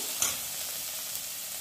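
A vegetable mixture of baby sweet corn roasts in a pan with a steady, soft sizzle and hiss, one brief stirring scrape near the start, close and without talk.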